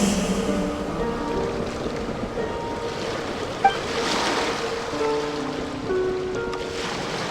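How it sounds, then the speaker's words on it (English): Ocean waves rolling and washing in Genshin Impact, a continuous surf roar with soft wind, carrying under gentle sustained musical tones. "Go to where you can hear the sound of the waves."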